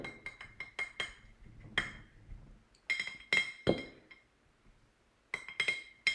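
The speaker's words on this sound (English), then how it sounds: "I'm going to go ahead and rinse my brush." A paintbrush is rinsed in a glass water jar during acrylic painting, giving a series of sharp, close glassy clinks and taps in irregular bursts separated by quiet gaps.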